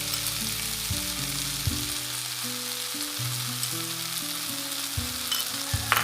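Curry fries in a pan with almond paste going in, giving a loud, constant sizzle with occasional stirring, up close and alone, while a steady tonal hum shifts pitch underneath.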